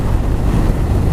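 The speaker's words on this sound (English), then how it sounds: "really windy right now." Strong wind buffets a helmet-mounted camera on a motorcycle ride through an industrial area, a loud, constant low rumble and roar with no speech.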